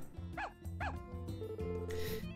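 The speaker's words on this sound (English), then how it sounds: "Guess a couple stray dogs settled in here, and it looks like they've already warmed up to you." Stray dogs in the farming game Story of Seasons: A Wonderful Life give two quick, close barks, then soft yips, over steady background game music.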